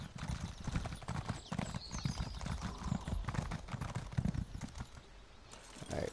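A horse mount in the Elder Scrolls Online video game clip-clops along with steady, rapid hoofbeats, close and continuous, with a brief whinny-like tone mixed in.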